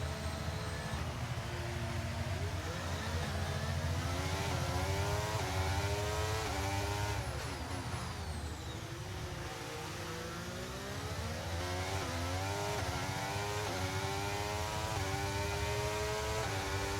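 Formula 1 cars racing in an F1 video game, a McLaren running alongside: a loud, continuous high-revving engine whine with rising and falling gear-shift sweeps, several cars close together, no talk.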